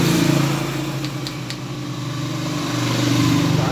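A 1998 Honda TMX155 motorcycle engine, non-CDI, runs steadily and noisily at idle, a loud, close, rough mechanical drone with a rattling, uneven throb throughout.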